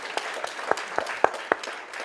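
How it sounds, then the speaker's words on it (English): Applause at a landscape architecture scholarship programme event, a scattered crowd clapping with several sharper individual claps standing out over a steady wash of hand noise. "Big applause, please"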